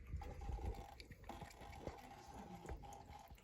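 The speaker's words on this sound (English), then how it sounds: "The cats like running water because it means clean water. They can hear it run." Water runs steadily from a tap, a soft continuous trickle with faint splashing and a few clinks, close by and fairly quiet, with no talking.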